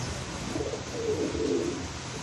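Soft, low cooing of a racing pigeon arriving from a race runs steadily beneath a constant hiss of background noise, rising slightly toward the middle.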